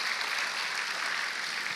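A church congregation applauds in a steady, fairly faint wash of many hands clapping, continuous and even with no talk over it.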